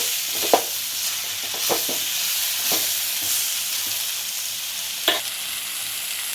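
Whole small fish for a spicy Telugu fish stew sizzle and fry steadily in hot oil, with a constant crackling hiss and a few louder stirring clatters along the way.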